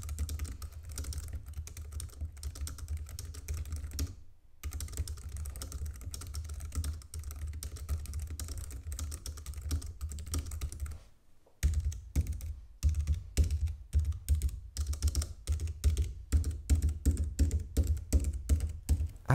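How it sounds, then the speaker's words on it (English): Steady typing on a small Bluetooth keyboard, rapid light clicks and taps in an even rhythm, with two brief pauses and a denser burst of keystrokes near the end. "here's a quick sound test of the keyboard"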